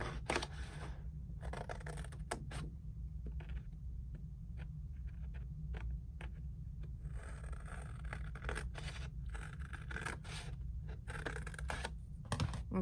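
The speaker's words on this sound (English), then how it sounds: "we're going to cut that score line out" Paper being cut along a score line for a cowboy-themed craft album page, heard as a series of short, crisp snips and clicks in irregular bursts over a steady low background hum, close up with no talking.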